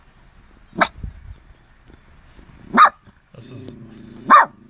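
A dog barks three times, spaced a couple of seconds apart, fairly close, with brief speech in between.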